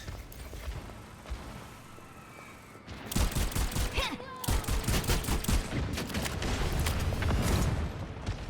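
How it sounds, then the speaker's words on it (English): Ashe's rifle fires in the online shooter Overwatch 2, a quiet lead-in followed by rapid, repeated cracking shots in dense clusters, loud and close amid other battle noise. "Good shots with the Ashe"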